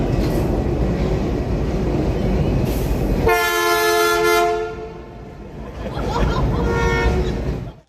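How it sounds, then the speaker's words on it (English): A coal train rumbles past, then a loud, sustained horn blast sounds close by, followed by the fading roar of rolling cars. "Everybody loves a good honk."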